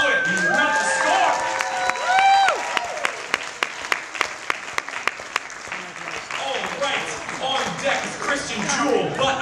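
An audience at a poetry slam claps for a poet after scores are read out. Dense applause swells, then thins to scattered distinct claps before building again, with cheers and voices in the room.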